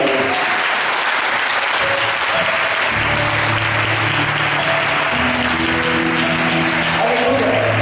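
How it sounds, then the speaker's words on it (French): A church congregation applauding in an ovation for Jesus Christ, loud continuous clapping with cheering and a few sustained voices mixed in throughout. "On donne une ovation à Jésus-Christ."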